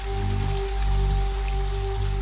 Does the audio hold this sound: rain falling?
yes